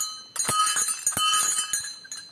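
A metal bell at a Hindu mandir on a rocky hillside above the Brahmaputra river is struck repeatedly, bright ringing tones with long shimmering overtones, several quick strikes close to the listener.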